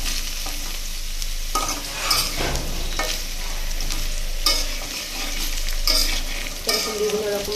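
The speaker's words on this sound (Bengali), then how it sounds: "এটাকে দেখুন বেশ অনেকটা সময় নিয়ে ভালো করে ভাজতে হবে" Mixed vegetables with lentils, young beans, elephant foot yam and bottle gourd stems fry in a pan, giving a steady close sizzle punctuated by repeated scraping stirs and sharp clinks of a spatula, with no talking.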